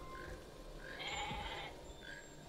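A goat bleats in a scene from the 1993 film Jurassic Park, one wavering cry heard over a low, steady soundtrack rumble.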